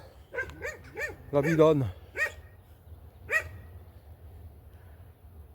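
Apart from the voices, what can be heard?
dog barking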